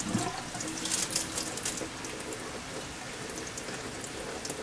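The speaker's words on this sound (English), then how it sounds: "Just straining the water out of the rice." Steady splashing rush of water strained out of rice through a strainer, a continuous hiss with a brief louder burst at the start, no voices.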